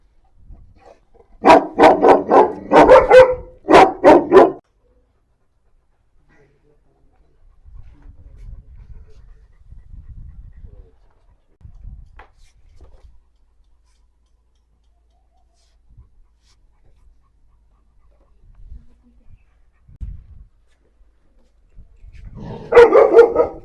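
A Gaddi dog barks in a rapid burst of loud barks near the start, then goes quiet apart from faint low knocks and rustles. A second short burst of barking comes at the very end.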